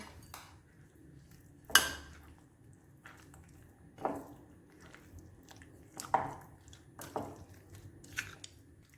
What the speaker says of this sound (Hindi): इनको अच्छी तरह मिक्स करेंगे